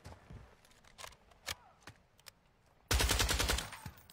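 Rapid automatic gunfire in the video game Call of Duty, a dense burst of shots near the end after scattered single cracks and clicks, loud and close.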